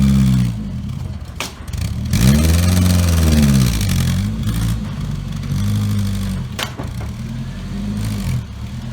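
A 1974 MG Midget's engine running and revving close by, loud and rough, rising and falling through several throttle blips over a clattery idle.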